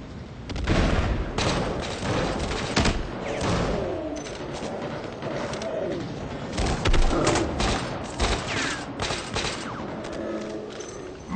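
Gunfire in the Battlefield 4 video game, with dense, continuous bursts of automatic shots and booms from a loud, close battle that runs without a break.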